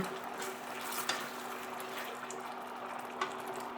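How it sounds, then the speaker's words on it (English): Teriyaki pot roast in gravy gets a final stir, a steady low bubbling and simmering sizzle with a couple of soft spoon knocks against the pot. "One last stir."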